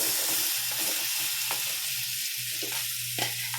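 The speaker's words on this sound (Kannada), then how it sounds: "ಚೆನ್ನಾಗಿ ಕ್ರಿಸ್ಪ್ ಆಗಬೇಕು ಬೆಳ್ಳುಳ್ಳಿ, ಅಲ್ಲಿವರೆಗೂ ಫ್ರೈ ಮಾಡ್ಕೋಬೇಕು" Garlic fries in a pan until crisp, giving a dense continuous hiss and sizzle, close and loud, broken by a few brief stirring scrapes.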